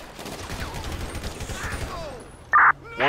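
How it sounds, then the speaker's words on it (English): Gunfire in the LSPDFR police video game crackles faintly in a scattered volley beneath a low radio-like murmur, followed by a sharp, loud electronic beep near the end. ".129 shots fired."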